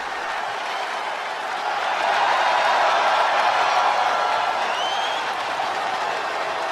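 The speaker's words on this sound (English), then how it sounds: "The crowd, though, absolutely delighted to see Miss Bliss" Wrestling arena crowd at a women's Smackdown event cheers and applauds loudly and steadily, swelling after two seconds into a dense, sustained roar of clapping and shouts, with a faint whistle cutting through near the end.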